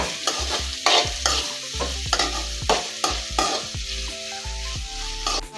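Green chili, ginger and curry leaves sautéing in a pan, with a steady sizzle under repeated scraping stirs of a spoon against the pan, close and fairly loud, with no voices.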